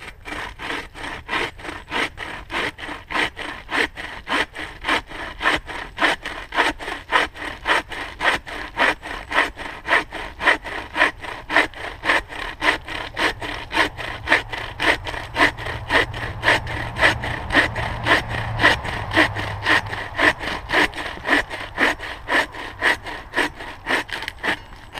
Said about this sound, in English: So it's a cross-cut saw, and we'll go ahead and give this a try.